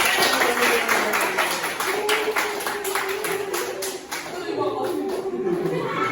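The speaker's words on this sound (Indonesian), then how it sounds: "beri tepuk tangannya" Students in a classroom clap in a loose, fairly quick rhythm of many hands, with a voice talking over the applause throughout.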